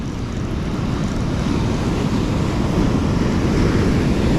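Rough, dangerous surf breaking along the California coast during king tides: a loud, continuous roar of crashing waves mixed with gusting wind, steady and unbroken throughout with no voices.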